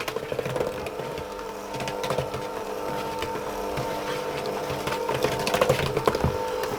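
An electric mixer runs on low speed, blending flour into lemon cake batter with a steady close whirring hum and light irregular clatter throughout.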